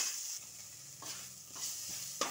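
Chopped onions with a pinch of salt fry in a pan, a soft close sizzle broken by several short scraping stirs.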